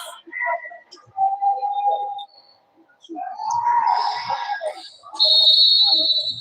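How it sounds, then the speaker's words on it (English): A referee's whistle blows at an under-16 boys' school basketball game, several sharp shrill blasts with short gaps between them over a thin bit of background noise. "There goes the whistle to continue game"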